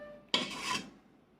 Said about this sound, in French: Je vais essayer de gratter pour éviter d'enlever trop de pommes de terre.